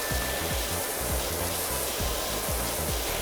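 A wide-fan pressure washer nozzle sprays steadily in PowerWash Simulator, a continuous hissing rush of water with low rhythmic rumbles beneath, close and unbroken throughout.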